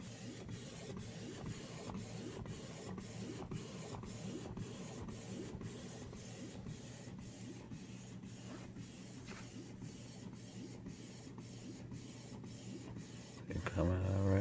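Canon TS9120 wireless printer running a print job, with a quiet, steady mechanical whir and a regular ticking pulse of the print head, ending with a louder feed clunk.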